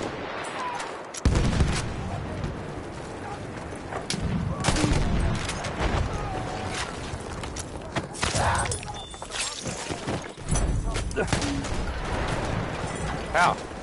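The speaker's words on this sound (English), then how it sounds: "Machine gun, over." Machine gun fire in the Battlefield 1 video game, rapid cracking bursts and scattered shots over a noisy battlefield din, fairly loud and dense across the whole stretch, with voices faintly present.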